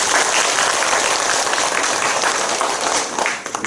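A church congregation applauds during a Sunday service, loud close clapping from many hands that continues steadily and thins out near the end.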